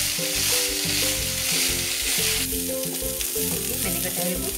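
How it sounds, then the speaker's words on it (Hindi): Raw jackfruit pieces frying on medium flame, a steady close sizzle with soft stirring scrapes, faint background music underneath and no talking. "तो 3 मिनट तक हल्का गुलाबी होने तक मीडियम आंच पर इस तरीके से भून लेंगे।"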